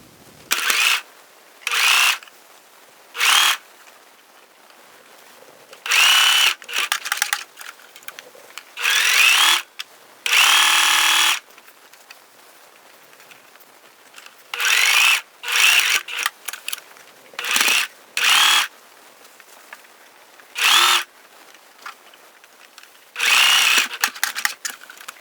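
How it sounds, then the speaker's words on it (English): A sewing machine stitches around the outer edges of a fabric face mask at a quarter-inch seam, in short loud whirring bursts separated by pauses, close and with no talking. "sewing machine and I'm going to sew along the outer edges with a 1/4 inch seam allowance"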